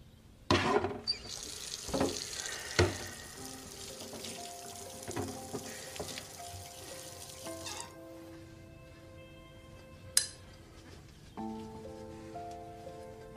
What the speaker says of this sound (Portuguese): Vê se não esquece de lavar a xícara